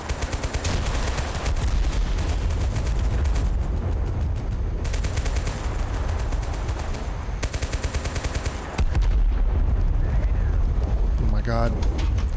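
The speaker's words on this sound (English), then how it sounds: "So much stuff blowing up." Dense, continuous gunfire and explosions roar through a battle in the video game Total Conflict: Resistance, loud and crackling without pause, with a heavy rumbling blast near the end.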